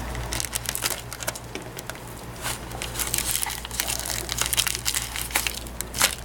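Tape pressed and smoothed over foam padding while repacking a StreetStrider 3i or 7i, a run of close crinkling and crushing rustles with irregular bursts and no talking.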